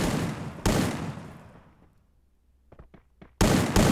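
Booming blasts from a Mobile Legends match burst loudly, one decaying into a fading rumble before short crackles and another sharp blast at the end.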